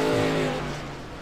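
The number 14 racing truck roars past on an oval track under a yellow flag, its engine loud and close, then fading slightly as it moves away.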